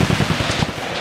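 A 76mm Whitworth cannon firing, a short burst of loud, rough low booming with a rumbling tail, heard close and without talk.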